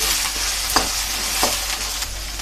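Red chillies frying in a pan give a continuous bright hiss, with a few soft stirring knocks spaced through the short stretch, close and without speech.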